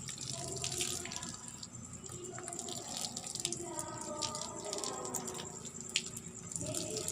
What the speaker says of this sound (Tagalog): after 30 minutes ay babanlawan na natin ang buhok ng aking mama ng mabuti